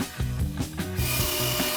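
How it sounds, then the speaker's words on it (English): A drill press with a Forstner bit boring into wood, making a loud, close grinding and rubbing sound with repeated pulses as the bit cuts, with no talking. "Then I use the drill press with a Forstner bit to drill a new hole"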